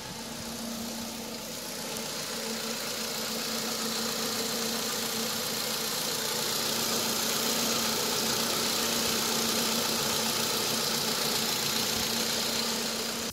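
A Ford Mondeo 2.0 with a blown engine runs at a steady idle, a close, constant mechanical drone with a persistent low hum that grows slightly louder over the first few seconds.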